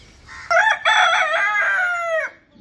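A single rooster crows close by in the morning, one loud drawn-out cock-a-doodle-doo lasting nearly two seconds against a quiet backdrop.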